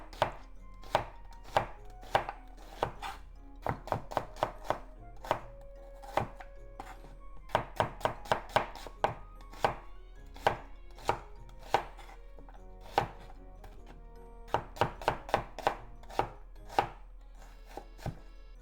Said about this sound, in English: Cut into half and make it into thin slices.